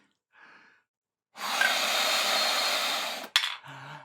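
A big, forceful breath blows steadily into a ball-lifting breathing exercise device, a loud airy rush lasting about two seconds after a faint earlier breath, ending with a short click.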